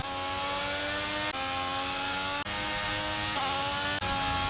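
Formula 1 race car engine in the F1 22 video game at full throttle, a loud high-pitched steady wail rising through gears with brief dips at each upshift.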